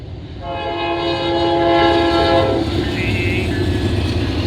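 A freight train of frac sand cars, led by an SD70ACe locomotive, rumbles past close by in Oak Harbor, Ohio, with a loud, steady roar, a sustained horn blaring over it for a couple of seconds before fading into the rolling rumble.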